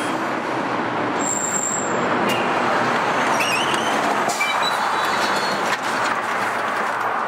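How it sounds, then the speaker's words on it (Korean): Busy street at a bus stop where a number 140 seated bus pulls in, its engine rumble and road noise continuous and fairly loud, with brief high squeals and hisses partway through. "버스 한 대 온다. 140번 좌석 버스랑."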